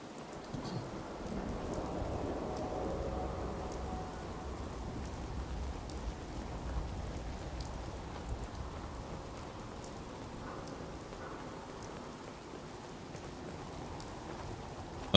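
Steady rain hisses in Fallout 4 stormy weather, with low rumbles of thunder rolling beneath it, fairly even and unbroken, with no voices.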